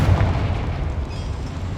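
A Confringo blasting spell explodes inside a cramped mine in the video game Hogwarts Legacy, making a loud, low rumbling boom that rolls on for about two seconds with no talking.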